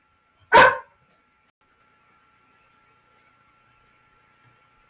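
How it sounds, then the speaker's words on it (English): A single loud, sharp dog bark sounds close by, then quiet follows for several seconds. "sorry, my dog interrupted me"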